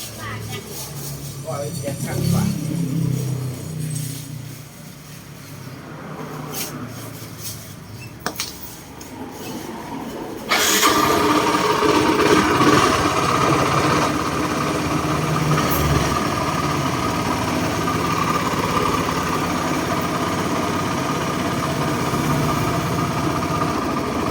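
A Yamaha Fiore motorcycle with a battery-charging fault idles steadily, a dense mechanical drone that grows louder and fuller partway through and keeps running to the end.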